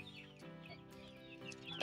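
Native chickens at feeding time cluck softly and close by, with a few brief higher calls. The sound is faint and scattered.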